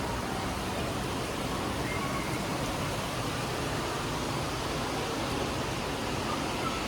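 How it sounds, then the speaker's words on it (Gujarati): Steady rain falling during the first rain of the season in Surat, a continuous even hiss filling the whole stretch with no voices or breaks. "ચાલુ વરસાદે ઠંડક વળી ગઈ"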